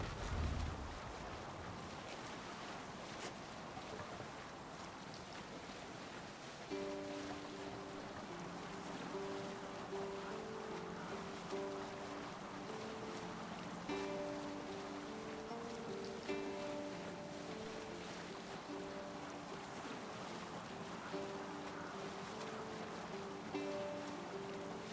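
A longship rows and sails across open sea in Assassin's Creed Valhalla, a steady wash of waves and wind against the hull, with soft music drifting underneath.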